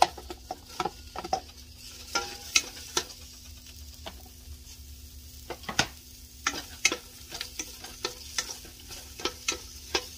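Onion frying in a pan for Filipino pancit bihon, a steady close sizzle broken by repeated sharp clacks of a utensil stirring and scraping the pan, with no talking.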